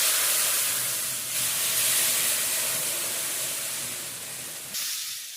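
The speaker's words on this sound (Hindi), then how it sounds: "अब इसमें पानी डालेंगे थोड़ा थोड़ा करके," Water is poured bit by bit into hot roasted semolina for halwa, giving a loud, steady hiss of sizzling steam that fills the whole stretch and eases off slightly near the end.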